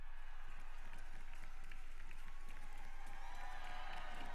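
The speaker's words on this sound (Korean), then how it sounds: "이쪽 편이 훨씬 더 함성 소리가 큰데요" A convention audience cheering and applauding, a dense sustained roar of clapping and shouting that stays steady and fairly distant throughout.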